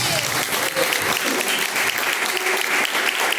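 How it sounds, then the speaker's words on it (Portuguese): A congregation at a live Pentecostal church service claps loudly and densely for Jesus, a continuous wash of applause with voices faintly mixed underneath. "As palmas bem fortes para Jesus."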